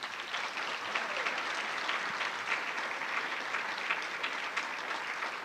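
A graduation ceremony audience applauds event helpers, with steady sustained clapping from a large crowd continuing throughout without pause.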